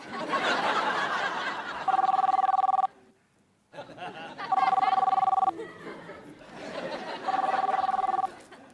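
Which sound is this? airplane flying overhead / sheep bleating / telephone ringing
telephone ringing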